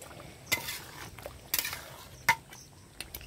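Meat cooking in a pan being stirred with a metal spatula, producing a few scattered scrapes and clanks against the pan over a faint background sizzle, close-up and without voices.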